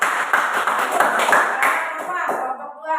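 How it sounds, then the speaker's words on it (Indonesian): A classroom of students claps for group 1, a brief, scattered burst of hand claps mixed with children's voices, tapering off after a couple of seconds. "tepuk tangan untuk kelompok 1"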